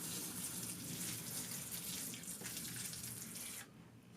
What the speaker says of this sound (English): we're going to water in the seedlings thoroughly to settle the soil around the roots